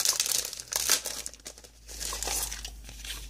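Gold and silver foil sheets being crumpled and crinkled by hand, crisp rustling bursts coming in uneven waves over a few seconds, close and fairly quiet, with no talking.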